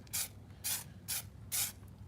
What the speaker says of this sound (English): you can see that I'm spraying this